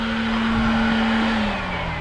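Honda Odyssey minivan engine running steadily with a low, constant hum and a faint tonal drone, heard from inside the car with no talk over it.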